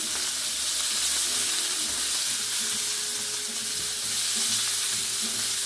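Steaks searing in a hot cast iron skillet, a steady dense sizzle and crackle of fat that holds evenly throughout, close and fairly loud with no talking.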